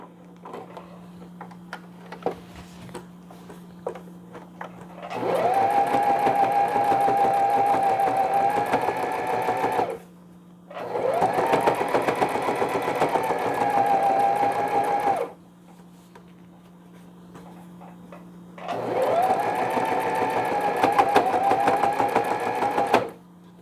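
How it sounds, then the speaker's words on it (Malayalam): A sewing machine stitches thick cloth for a mustard-seed baby pillow, running in three loud sustained bursts of rapid mechanical whirring and clatter, with quiet pauses between runs. "തിക്കായിട്ടുള്ള ക്ലോത്ത് ആയതുകൊണ്ട് മെഷീനിന് ശബ്ദം."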